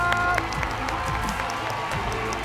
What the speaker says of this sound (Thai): ขอเสียงปรบมือให้กับผู้แข่งขันอีกคู่นึงนะครับ